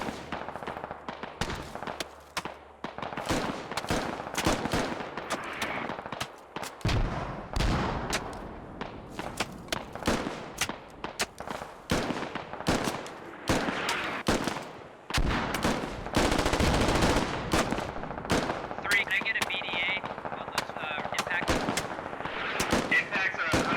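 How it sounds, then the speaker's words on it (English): Gunfire in the video game Squad during a Mars scenario operation, with rapid machine-gun bursts and sharp single shots, loud and near, continuing almost without pause, under occasional talk. "I don't know what they're shooting at. I don't think they're shooting at anything."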